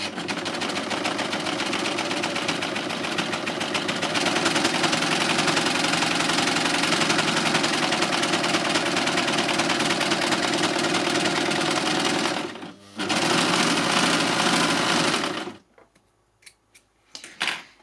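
A LUCIE overlocker by Success runs steadily at speed for about fifteen seconds with a dense mechanical whir and rapid stitching clatter, pausing briefly near the twelve-second mark, then stopping and leaving a few faint clicks.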